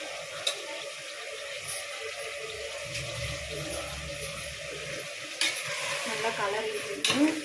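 Mint leaves sauté in a pan for chicken biryani, giving a faint sizzle broken by occasional stirring scrapes and clinks, with a louder clatter near the end.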